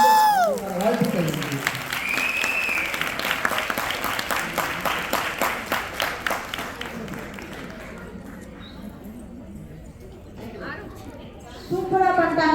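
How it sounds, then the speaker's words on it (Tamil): Audience applause at a school performance event, a dense sustained burst of clapping from a crowd lasting most of the stretch before fading, with a voice speaking briefly at the start and again at the end. "நல்ல ஒரு கைத்தட்ட"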